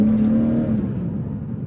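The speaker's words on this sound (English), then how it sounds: "It kicks down when you need it to kick down." A BMW M240i with an automatic gearbox kicks down and accelerates, giving a steady, close engine drone with a rising tone that eases back, heard from inside the car with no talking.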